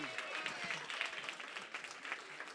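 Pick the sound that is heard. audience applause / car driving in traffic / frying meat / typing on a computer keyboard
audience applause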